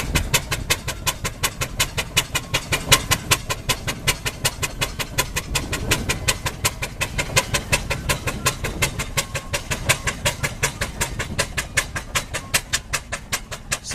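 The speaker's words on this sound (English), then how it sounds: "Now you'll hear an engine bark a bit." A vintage steam roller engine with Norfolk registration barks out a steady, rapid train of sharp exhaust beats, loud and close, keeping an even rhythm for the whole stretch at a country show.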